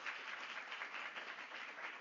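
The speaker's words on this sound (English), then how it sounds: "Let's have another round of applause for all our speakers." An audience claps continuously, a steady wash of applause at moderate volume that neither builds nor fades.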